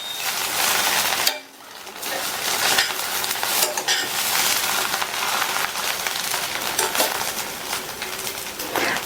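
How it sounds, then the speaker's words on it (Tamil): Bread upma being stirred in a pan with chopped coriander leaves, giving a steady, close scraping and sizzling texture that runs almost continuously, broken by one brief pause near the start, with no speech. "நல்லா மிக்ஸ் பண்ணி விட்டுருங்க."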